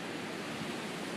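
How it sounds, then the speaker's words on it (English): Wind roaring through a snowy blizzard in Marstons Mills on Cape Cod, a steady, dense rushing wash with no breaks, fairly soft and continuous throughout. "Wind is picking up."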